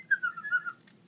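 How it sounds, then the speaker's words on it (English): A single short whistled bird-like trill, clear and close, lasting under a second against a quiet background. "He loved to listen to the birds whistling in the trees."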